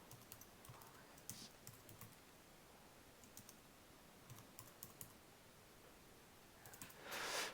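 Faint, quick clicking of keys on a computer keyboard comes in short irregular bursts, ending with a brief louder rustle.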